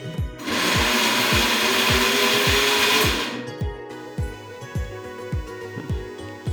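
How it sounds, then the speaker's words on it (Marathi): An electric blender whirs loudly as it mixes a rose syrup summer drink for about three seconds, then shuts off, leaving a steady rhythmic background pulse. "आता हे आपण सगळं फिरून घेऊ"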